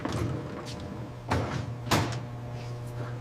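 A door opens at the back entrance of a supermarket, giving a couple of soft thumps and a rattle over a steady low hum of machinery.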